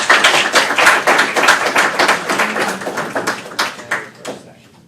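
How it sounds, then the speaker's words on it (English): Audience at a COMSOL session in Newcastle claps together, a dense burst of hand claps that is loud at first, then thins out and fades over a few seconds. "Should we give everybody a clap?"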